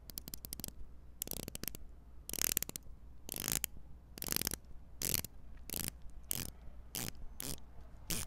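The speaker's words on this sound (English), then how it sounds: "you have an amazing rotating bezel. Let's hear it for a second" A Seiko 5 watch's rotating bezel being turned, giving bursts of crisp ratcheting clicks in about a dozen separate spins, close-up and alone against a quiet background.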